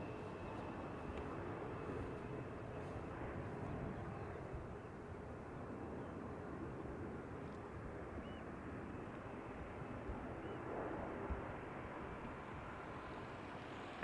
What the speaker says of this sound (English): Vacating the runway at the first exit.